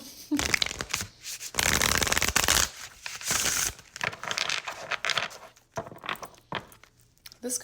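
Tarot cards being shuffled by hand, a series of crisp riffling and flicking bursts, some long and some short, close to the microphone with brief pauses between them.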